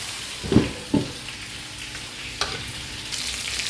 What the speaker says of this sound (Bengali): এই যে দেখেন টমেটোগুলো ভালো করে ভেজে নেব